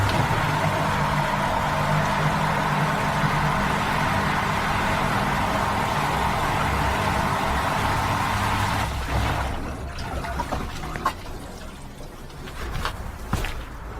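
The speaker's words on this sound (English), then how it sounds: "I will turn on the pump." A pool sand filter pump runs with a steady, loud mechanical hum and rushing water that holds constant, then drops to a quieter, uneven trickle with scattered knocks near the end; no one speaks.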